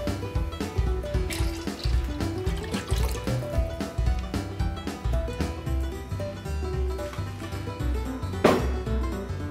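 Yeast starter poured from a container into a homebrew batch, a continuous splashing, gurgling stream of liquid that runs near and steady for several seconds, with a brief louder splash toward the end.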